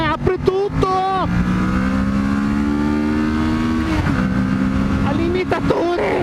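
A motorcycle on a mountain road toward Lago del Predil is opened to full throttle, its engine droning loud and steady as it pulls hard, with a brief dip in pitch midway like a gear change, and wind rushing throughout.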